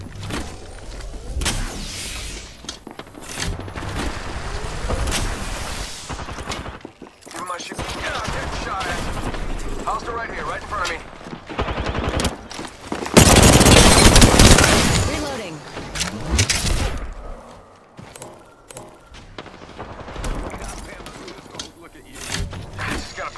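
Rapid bursts of automatic gunfire in the battle royale game Apex Legends, firing in repeated volleys over about twenty seconds, loudest near the middle, with someone talking over the shots.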